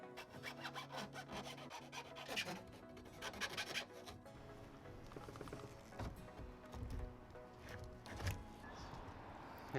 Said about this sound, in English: so I'm just gonna give it a quick filing.